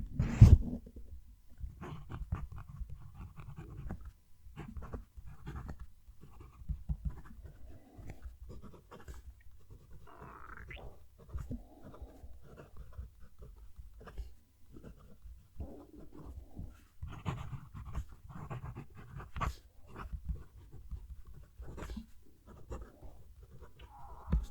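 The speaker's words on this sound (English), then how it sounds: "I'll have the mic down near the page so that you can hear it writing." 1841 fountain pen nib scratching across shiny paper, recorded close up: continuous soft scritching strokes with small pauses between letters and words, steady and intimate, no talking.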